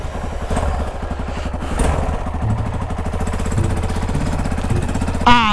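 A Yamaha XT motorcycle engine runs close by with a rough, rapid single-cylinder chatter, revving up and down unevenly, ending with a sharp high-pitched rev burst.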